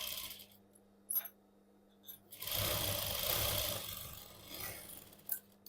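A sewing machine stitches a princess-cut blouse, short bursts of motor and needle whir starting and stopping, then one longer steady run of stitching, close and fairly quiet.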